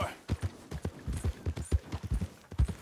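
Horse hooves clip-clop in an uneven walking rhythm in Red Dead Redemption 2, close and distinct, with a soft voice briefly under the steps.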